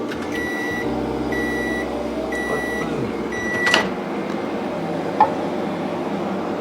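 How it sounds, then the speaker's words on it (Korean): A microwave oven hums steadily while heating milk in a measuring cup, with a series of electronic beeps at the start and a few soft clicks and knocks in a quiet kitchen. "혹은 전자레인지 전용 용기에 우유 100만 부어서 전자레인지에 30초 내지 1분 따뜻해질 때까지 돌리시는 거예요"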